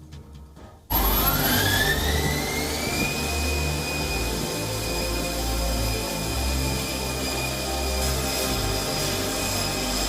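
An electric-powered flying suit in flight gives a loud, steady high-pitched turbine-like whine that starts abruptly, rises in pitch over the first couple of seconds, then holds a sustained roar with no voices.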